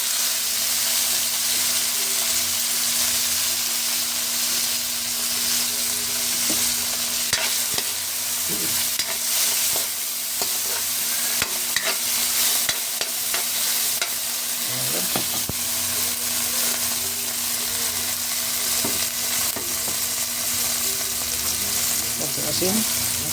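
Vegetables sauté in a pan for a Filipino ginisang gulay, with tomato added, giving a steady broadband sizzle and hiss throughout, punctuated by scattered scraping stir strokes.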